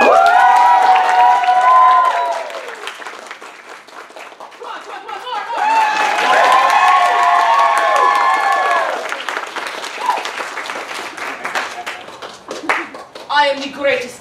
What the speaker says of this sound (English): You may applaud!